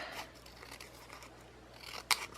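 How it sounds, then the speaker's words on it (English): Scissors snip through paper while trimming a piece for a collage planner: a quiet room, then one short, sharp cut near the end. "I'm just going to cut this side off a little bit because I don't think it's going to glue very well."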